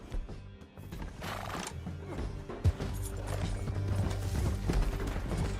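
Red Dead Redemption 2 horse whinnying loudly over galloping clip-clop hooves during a tense game chase, with rumbling background noise and scattered clanks.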